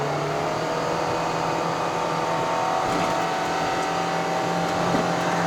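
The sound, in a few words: Perodua Myvi 1.5 accelerating uphill on Genting road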